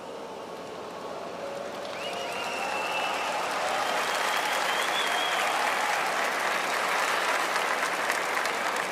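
A large crowd at a church youth convention applauds. The clapping builds after a couple of seconds into a dense, sustained roar of hands that fills the hall.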